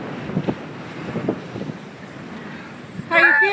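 Strong wind at Crown Point buffets the microphone with a steady, rumbling roar and gusty low thumps, before a voice speaks briefly at the very end.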